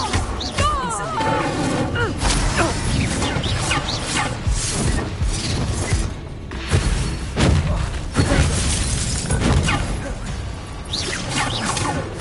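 A Bombarda blasting spell exploding in Hogwarts Legacy, heard as booming impacts, whooshes and crashing debris within a dense, continuous game soundscape, with voices talking throughout.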